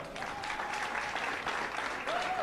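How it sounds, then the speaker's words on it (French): A church audience gives steady applause with scattered cheers to welcome the pastor, heard as a dense, fairly distant wash of clapping with a brief whistle-like cry near the end. "sous vos acclamations s'il vous plaît"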